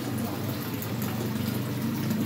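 Fresh water pours continuously into a catfish hatchery tank, a dense, steady rushing splash at even loudness, with no voices.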